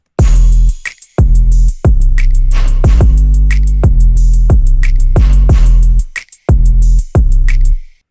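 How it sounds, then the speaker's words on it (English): A loud electronic drum beat made in FL Studio with punchy, booming kicks, crisp hats and snappy hits in a steady pattern, with a couple of brief dropouts near the end. "So all the drums together sound like this"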